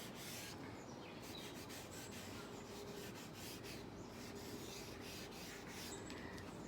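Charcoal rubbed and smoothed across paper in a drawing of eggs, a steady, close, dry scrubbing with rapid back-and-forth strokes that continue without pause.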